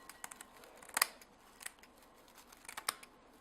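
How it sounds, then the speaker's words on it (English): Faint, sparse scissor snips close by cutting dried yarrow and herbs into a bowl, a few sharp clicking cuts scattered over a quiet background. "I'm going to cut it with scissors into this bowl"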